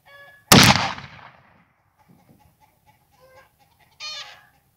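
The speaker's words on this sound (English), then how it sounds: "sounds like the chickens aren't too happy about that" A sharp loud shotgun blast is followed by agitated chicken squawks and clucks, faint at first, then a brief louder squawk near the end.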